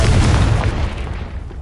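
A Confringo blasting spell going off in the Hogwarts Legacy game, one loud, close boom that rolls off into a decaying rumble.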